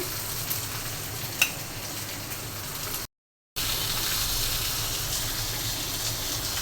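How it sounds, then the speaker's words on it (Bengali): Fish fries in oil with a steady, crackling sizzle heard up close. A short gap of silence splits the frying, and the sizzle resumes just as strongly afterward. "মাছ ভেজে নিচ্ছি"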